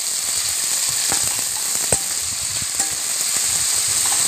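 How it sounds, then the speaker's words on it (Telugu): Onions frying in hot oil with whole biryani spices give a steady, close sizzle with scattered pops and crackles, alone and with no talk. "ఆనియన్స్ దోరగా వేగనివ్వాలి"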